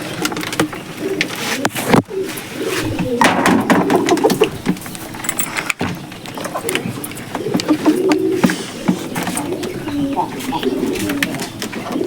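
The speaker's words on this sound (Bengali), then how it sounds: "আমাদের নোয়া কবুতর ডাকটা দেখ" Domestic pigeons kept at a small farm coo in repeated low, throaty phrases, close and fairly loud, while a person talks over them on and off.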